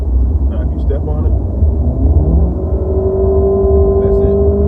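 A Jeep Cherokee's engine rumbles under acceleration on a test drive, its low drone rising steadily in pitch, with brief speech near the start and at the end.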